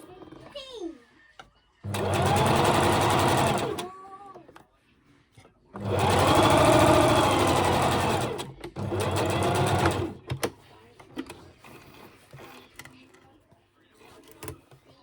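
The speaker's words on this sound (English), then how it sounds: "You do top stitch right at the very end, so this is obviously shaped again, so you need to feed it through your machine" A sewing machine top stitches a shaped fabric face mask in three loud runs of fast, even motor whirring and needle chatter, separated by quiet pauses, with a voice briefly heard near the start.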